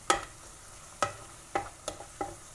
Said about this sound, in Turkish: Mantarlarımız kavruluyor.